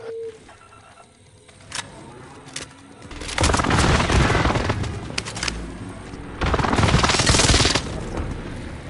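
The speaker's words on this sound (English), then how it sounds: "Enemy position airstrike," In a video game, an airstrike hits an enemy position: after a quiet stretch with a few sharp gunshots, two loud, sustained bursts of explosions and rapid gunfire fill the scene.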